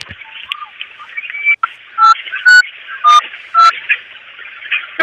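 A telephone is dialed as a rapid sequence of loud, clear keypad tones, heard over a narrow phone-line hiss.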